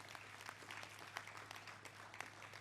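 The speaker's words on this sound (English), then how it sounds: "Can we clap for ourselves?" Audience applause at a conference in Uganda, scattered clapping with irregular sharp claps, fairly faint and distant, continuing steadily without speech.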